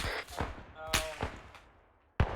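Game gunfire in a military operation: several sharp shots ring out in quick succession, then a sudden loud grenade blast lands close at the end after a brief silence.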